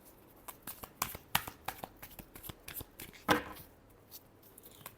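Tarot cards are shuffled by hand in a quiet room, giving a quick series of close, crisp riffling flicks and soft slaps in uneven bursts.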